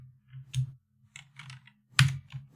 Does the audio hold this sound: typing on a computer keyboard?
yes